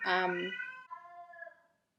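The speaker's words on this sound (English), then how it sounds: "my cat she sings when she finds like certain toys around the house, she sings really loud" A cat meows loudly in a long, drawn-out yowl that rises and then trails off, close by.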